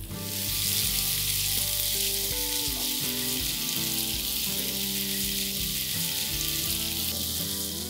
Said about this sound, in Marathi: कांद्याला 1 मिनिट परतून घेऊया